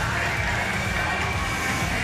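A large crowd at the Paris 2024 Olympic velodrome cheers and roars steadily after a men's C1 1000m time trial, a dense continuous wash of voices with some higher shouts.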